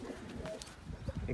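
Pigeons at a bird market coo softly in low, throaty bursts, close by, with voices talking faintly in the background.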